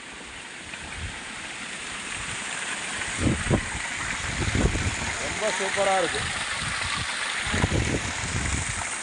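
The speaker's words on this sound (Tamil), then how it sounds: "தண்ணி எப்படி பாயுது பாருங்கள்" Water gushes steadily from a farm pump set into a banana grove, a continuous close rushing flow, with someone speaking briefly over it.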